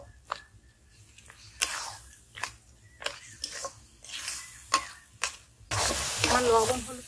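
Olives being stirred and mixed with salt and turmeric powder for an olive chutney, making a series of short scraping and wet stirring strokes close by, with a louder sizzling mixing burst near the end.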